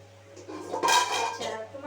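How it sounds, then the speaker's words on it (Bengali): A metal lid clanks down onto a pot of soya chunk biryani, a short cluster of bright clinks and rattles close by, then a soft settling knock against a low, steady kitchen hum. "এবারে আমি একটা ঢাকনা দিয়ে ঢেকে দেবো"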